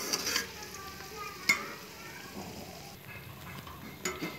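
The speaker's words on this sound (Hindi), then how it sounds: "साथ साथ चमचा चलाते रहेंगे ताकि जो सारी प्याज है ना वो अच्छे से गोल्डन हो जाए" Onions frying golden in a pan for beef nihari while a spoon stirs them, a soft steady sizzle with a few sharp clinks of the spoon against the pan, near and fairly quiet, with no voices.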